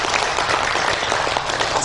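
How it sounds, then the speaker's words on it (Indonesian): An audience at a training event on children's rights at a juvenile detention facility bursts into dense, continuous clapping, loud and close, with no talk over it. "kita bersyukur dan tepuk tangan untuk teman-teman semua"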